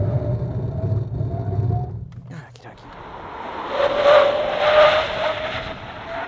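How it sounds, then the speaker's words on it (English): Mahindra XUV700 SUV braking hard from 100 km/h, engine and road noise dropping away and then a rising tyre hiss and squeal as the car scrubs speed, loud and close. "I'm going to stop from 100 k's an hour here"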